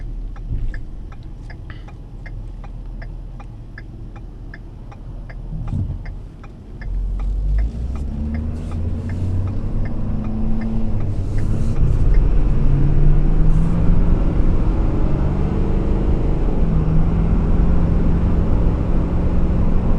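A 2014 Ford Super Duty 6.7L turbo diesel pickup pulling uphill under boost around 2,000–3,000 RPM, heard from inside the cab as a steady low engine drone that swells and deepens, with faint rhythmic ticking throughout.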